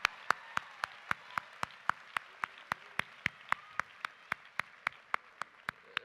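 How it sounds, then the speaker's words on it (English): At a university celebration for graduating students, faint, evenly spaced claps sound in a steady rhythm, around four per second, each crisp and isolated against a quiet room background. "And a round of applause."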